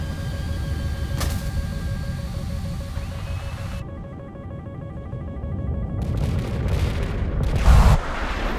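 A Sidewinder air-to-air missile fires and streaks away in a combat flight video game, a loud whooshing roar with sharp bursts over a steady engine drone, swelling toward a louder burst near the end.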